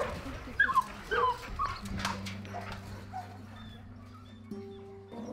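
A shelter dog whimpers and yips in short, high, plaintive bursts near the start, then quiets while a low steady hum from the kennel surroundings carries on underneath.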